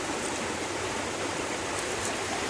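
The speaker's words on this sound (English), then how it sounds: "There's a little stream here that goes down in the middle of the rocks" A small stream trickles down between moss-covered rocks, a steady close broadband rush and burble of water that holds constant throughout.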